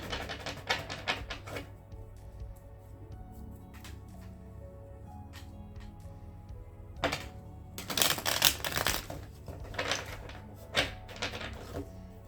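Tarot cards being shuffled by hand in a quiet room, a run of soft papery riffles and taps that comes in uneven bursts, louder clusters near the end, with no talking.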